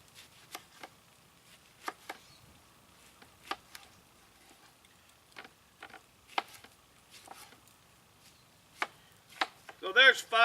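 A knife slices through oranges on a cutting board for a turkey brine, with sharp, scattered cuts spaced irregularly and close, ending in a quick burst of faster strokes.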